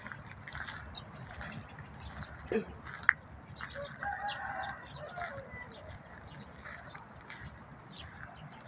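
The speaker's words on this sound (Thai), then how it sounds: "เสียงไก่คนงานร้อง" A rooster crows and clucks at a distance amid quiet outdoor ambience, with faint voices and birdsong in the background.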